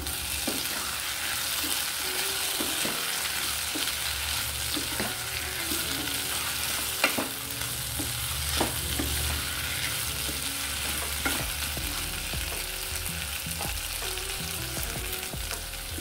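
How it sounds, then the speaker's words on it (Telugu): Beans and carrot pieces stirred in a frying pan with potato pieces, a steady close sizzle with occasional spatula scrapes and knocks against the pan, no voices. "పావు కప్పు బీన్స్, పావు కప్పు క్యారెట్ ముక్కలు వేసుకొని ఒకసారి బాగా కలుపుకుందాం"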